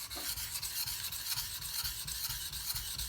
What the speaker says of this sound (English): just listen to the sound the steel makes on the stone